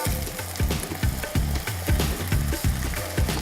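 Onions and samp frying in a pot, giving a steady close sizzle with repeated rhythmic scraping or stirring knocks, moderately quiet and with no talk.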